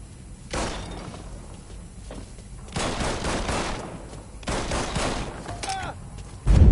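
Gunfire bursts in the video game Mafia 3's Cuba DLC ending, with several loud, broadband volleys of rapid shots separated by quieter stretches and a sharp blast at the close.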